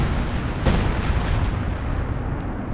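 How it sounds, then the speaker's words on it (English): Howitzer and mortar fire in the video game Company of Heroes 2, a dense, loud wall of booming blasts and rumbling explosions with one sharper hit near the start, continuous and unbroken, no talking. "Running into the base howitzer fire with these mortars."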